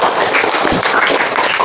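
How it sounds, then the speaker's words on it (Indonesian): Students in a classroom break into applause, a dense, steady patter of many hands clapping at close range for a moment. "Nah, tepuk tangan."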